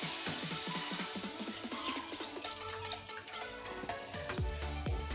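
Water is poured into a hot pan of spiced masala for Maggi noodles in a home kitchen, a quiet close-up sizzle and splash with bubbling and gurgling pulses that fade into soft dripping and crackling.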